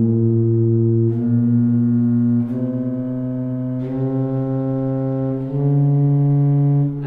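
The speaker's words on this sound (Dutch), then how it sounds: "Dat is een chromatisch motief, allemaal met halve tonen." Pipe organ at an organ academy in Alkmaar, tuned in meantone, playing a slow chromatic motif of held half-step notes, each tone sustained about a second or more with sharp changes between steps, no talking.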